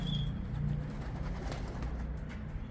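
A racing pigeon returns to its loft after a 180 km race, with soft cooing and bird sounds low in the mix under steady outdoor background noise.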